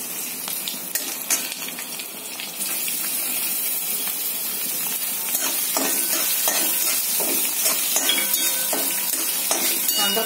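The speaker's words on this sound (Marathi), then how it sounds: "कांदा थोडासा फ्राय होऊन द्यायचा।" Sliced onion fries in an oiled pan for a cabbage and dal bhaji, a steady close hiss with a spatula scraping and stirring throughout, the sizzle growing louder after a few seconds.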